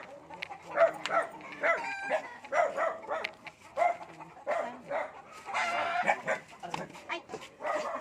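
A fierce dog barks repeatedly and aggressively at close range, sharp loud barks coming in bursts across the whole stretch, with roosters crowing and chickens clucking in the background along a village road.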